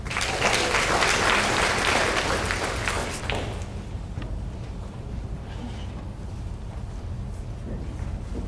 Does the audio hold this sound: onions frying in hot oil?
no